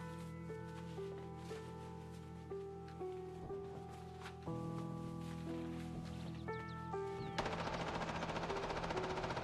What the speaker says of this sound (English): Those again shots sounded really fucking close.